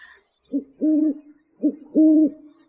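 A bird call imitating a cuckoo in a freezing winter night setting sounds as two clear paired hoots, a short note then a longer one, repeated twice, alone against silence.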